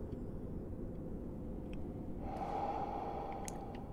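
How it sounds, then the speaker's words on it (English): Artorias, a boss in the video game Dark Souls, breathes heavily in low, rumbling snorting breaths. The breathing is steady and set against continuous game ambience, with a few faint clicks. "you can hear Artorias breathing"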